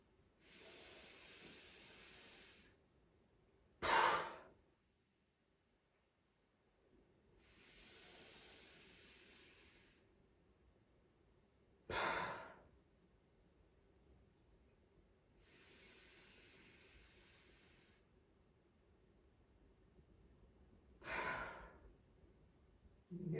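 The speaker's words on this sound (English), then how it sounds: "And as you breathe out, let it go." Loud exhaling breaths during restorative yoga, with long airy breathing cycles and three sharp forceful out-breaths spaced several seconds apart, close and alone in a quiet room.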